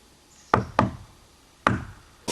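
Sharp knocks on the outside wall of a house after dark: two quick raps, a pause, then a third, with a fourth just starting at the end. Each is close, loud and woody with a short ringing decay, and there is no talk.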